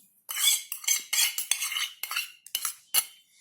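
A spoon stirs chakli dough ingredients (wheat flour, half a spoon of turmeric, white sesame seeds, ginger-chili paste) in a bowl, making a rapid run of close, scraping, clinking strokes with brief pauses between them.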